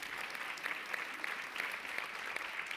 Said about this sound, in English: thank you especially for that applause